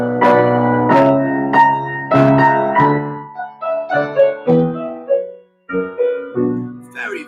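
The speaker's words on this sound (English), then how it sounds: "Very, very simple music, just a rising bass line" Simple passacaglia in triple time built over a rising bass line: sustained, clear harmonic notes move in a slow, stately pulse, with one short gap between phrases and no voices.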